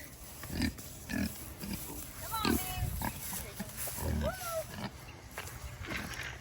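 Farm pigs at feeding time grunt and oink in several short, irregular bursts, close by, over a background of rustling and footsteps, with a person talking now and then.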